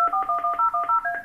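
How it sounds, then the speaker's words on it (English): Dual-tone dialing beeps from a desk phone on a 3CX business system, about nine short evenly spaced tones in a quick steady run, clear and close with no talk. "That's the phone being dialed"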